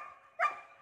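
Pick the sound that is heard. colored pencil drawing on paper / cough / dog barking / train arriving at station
dog barking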